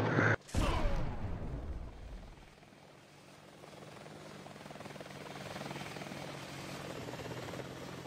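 Mi-8 helicopter in a video game: a sharp loud impact burst at the start, then a steady rotor and turbine drone with rhythmic blade chop that carries on throughout, close and fairly loud.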